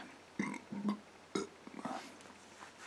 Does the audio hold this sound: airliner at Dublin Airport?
no